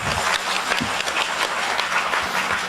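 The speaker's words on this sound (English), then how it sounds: "How about a big round of applause for a team in New Jersey?" Employees at a company all-hands meeting give a team a sustained round of applause, a dense, even patter of many hands clapping in a large room.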